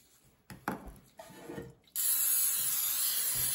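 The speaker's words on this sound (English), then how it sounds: "Okay, Harlann, we've got to spray our pan." Cooking spray sprayed onto a bread loaf pan: a few light handling clicks and rustles come first, then a loud, steady hiss of spray runs close up until the end.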